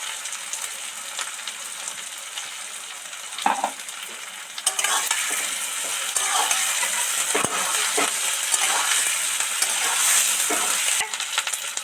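Deep-fried potatoes sizzling in oil as a little ginger goes in, a bright steady hiss that swells after a few seconds, with occasional scrapes and clinks of stirring and no talking.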